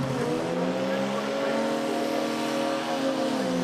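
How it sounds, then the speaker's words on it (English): Drag race car engine warming up at a Japanese drag series event, a loud steady revving drone with shifting engine tones, heard up close against outdoor track ambience. "it looks like Mark Moseley is warming up his car"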